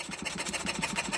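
A warmed-up model hit-and-miss engine runs close by, a quick, steady, evenly spaced chuffing pulse about seven beats a second with a low mechanical rumble beneath it, and no one talking.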